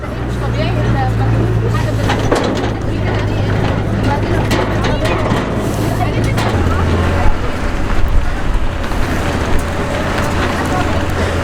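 A rough-running motor on a Nile boat near Luxor drones loudly and continuously, its low hum shifting pitch partway through, while voices carry over it.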